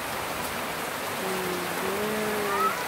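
Heavy rain pours onto a house balcony with a suspended metal roof sheet during flooding: a dense, steady wash of rain noise, loud and continuous, with faint tonal sounds rising briefly in the background.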